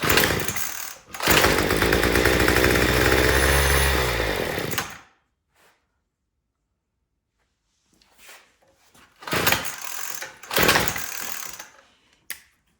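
A Troy-Bilt TB225 tiller engine runs loud and close for about four seconds, then cuts out, followed by a few brief sputtering bursts as it tries to restart while running out of gas.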